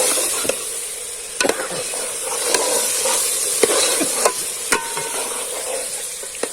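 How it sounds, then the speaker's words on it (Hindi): Chicken fries in a pot with a loud, continuous hissing sizzle, broken by sharp clicks and scrapes of stirring at irregular intervals. "चिकन फ्राई हो रहा है"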